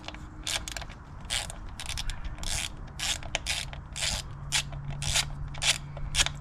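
Parts are being handled while the cover is taken off an E Ride Pro SS 2.0 e-bike. Close mechanical clicks, scrapes and rubbing bursts come in an irregular rhythm over a low background hum.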